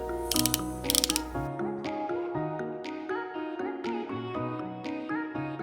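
A twist-up lip gloss tube in plumping Nude Glow shade being turned, giving a rapid series of small plastic ratcheting clicks in a steady rhythm, close and clear with no talk.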